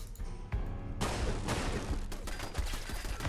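Gunfire in the video game Fallout London, with bullets striking thick metal cover: rapid, dense bursts of shots and sharp impacts, loud and continuous.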